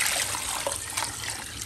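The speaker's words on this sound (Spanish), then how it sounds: "Aquí ponemos el agua" Water pours steadily into a cooking pot holding chicken legs, a continuous splashing trickle close by with no voices.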